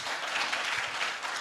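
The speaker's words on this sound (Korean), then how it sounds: "박수로 환영해 주시기 바랍니다." Conference hall audience at a forum applauds to welcome a speaker, a soft, even patter of many hands heard from a distance, brief and steady.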